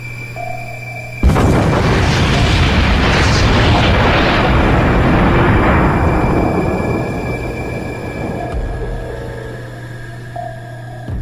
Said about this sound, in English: That explosion has our ears ringing